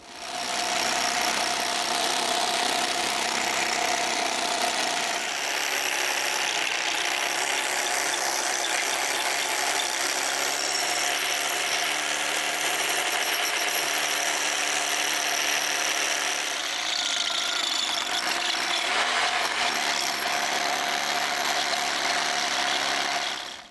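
A hand-cranked drill gives a steady mechanical whirring and ratcheting that grinds on continuously for a long stretch, loud and close, with a brief change in tone near the end.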